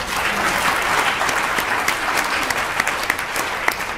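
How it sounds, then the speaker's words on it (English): An audience at a university event gives a round of applause: steady, moderately loud clapping from a group, with individual claps standing out as it thins toward the end. "Can we give a round of applause?"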